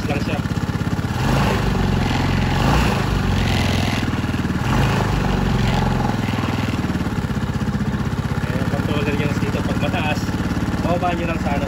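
A Rusi Macho 175 motorcycle engine idles steadily at low RPM, a continuous close mechanical rumble with light clatter running the whole time, with no pauses or revving.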